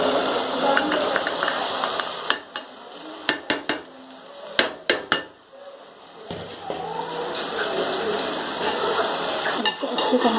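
Boiled guar bean pods tipped into sizzling masala in a pan, a steady fry hiss with a cluster of sharp spoon-on-pan clanks and scraping as they are stirred in.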